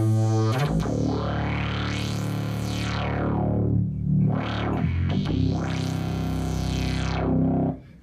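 Arturia MatrixBrute analog synthesizer presets with big, thick tones and sweeping filters that rise and fall. Effects add a swirling, distorted sheen, played alone and loud.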